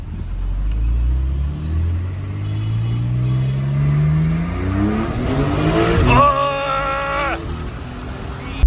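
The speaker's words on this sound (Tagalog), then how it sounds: "we are driving the Porsche 911 991 Targa" A Porsche 911 Targa of the 991 generation is driven in the Philippines, its engine droning low, then revving up through climbing gear changes to a strained, rising whine, steady and near, with brief voices over it.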